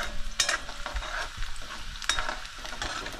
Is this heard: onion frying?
yes